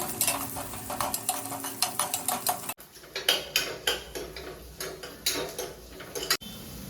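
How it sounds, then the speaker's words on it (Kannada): Chopped onions frying in a pan for mint pulao, with repeated stirring scrapes and clinks of a utensil against the metal pan over a low background sizzle, close and fairly steady. "ಇನ್ನಿದಕ್ಕೆ ಕಟ್ ಮಾಡಿದ ನೀರುಳ್ಳಿ ತೆಕ್ಕೊಂಡು ಫ್ರೈ ಮಾಡುವ."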